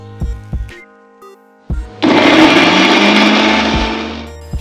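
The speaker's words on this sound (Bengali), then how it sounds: "এবার মিক্সিতে দিয়ে বেটে নেব।" An electric mixer grinder grinds onions into paste, starting after a few clicks and knocks and running as a loud, steady whirring drone for a few seconds before winding down.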